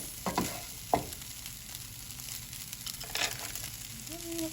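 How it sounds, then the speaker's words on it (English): Cooked rice with peas and egg being stir-fried in a pot for homemade fried rice, quiet sizzling with a few spoon knocks and scrapes, faint and steady, no talk. "you can just mix everything together"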